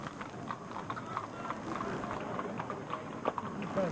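Horse hooves clip-clop steadily at a moderate distance over a busy outdoor background, with faint voices nearby.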